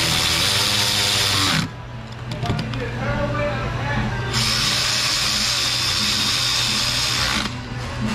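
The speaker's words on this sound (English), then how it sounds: "We're going to finish up the rail by securing the bolt." A power tool runs in loud, near bursts while securing a bolt on a Ford 5.4 engine rail, whining steadily for long stretches with a short break between, as a person talks over it.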